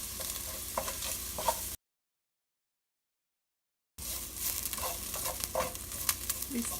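Lemongrass paste stir-fried in a pan for a Cambodian stew, a close sizzle with frequent scraping stirs, cut by two seconds of total silence midway, then more stirring and frying.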